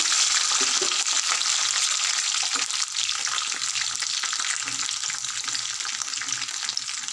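Chopped green chillies and peanuts frying in a pan for a tindora and tomato chutney, a dense continuous sizzle and crackle held loud and close for several seconds, with a few light stirring scrapes underneath.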